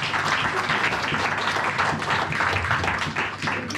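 A church congregation applauding and cheering in praise of the king of kings, a dense, steady roar of clapping and voices that fills the whole stretch without a break.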